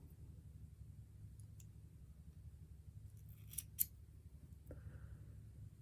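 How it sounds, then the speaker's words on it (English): Scissors cut yarn for a crochet-chain provisional knitting cast-on, making two quick, close snips in a row over a faint, quiet room hum. "Okay, so we're going to cut this yarn."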